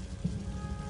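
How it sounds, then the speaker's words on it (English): Rain in the video game Lollipop Chainsaw falls as a soft, steady patter mixed with a low rumble, fairly faint and continuous, with no voices over it. "Is that rain?"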